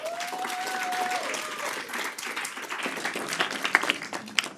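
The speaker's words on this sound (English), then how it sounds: "Let's give her a round of applause." Audience at a philanthropy lecture applauds warmly in a moderate, sustained patter of clapping, with a few louder individual claps near the end and a voice briefly heard at the start.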